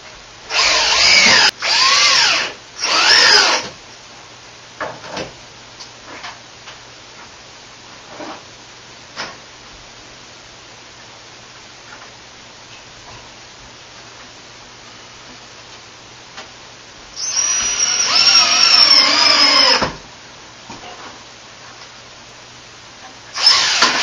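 A power drill drives screws into wood during a bathroom remodel, with short loud whirring bursts near the start and a longer burst later, separated by quiet stretches with faint ticking and tapping.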